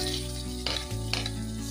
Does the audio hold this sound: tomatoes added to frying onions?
yes